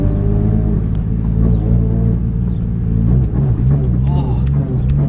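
A Nissan 180SX drives with a strange engine noise, a loud droning rumble with layered whining tones that waver and shift, while people talk over it inside the car.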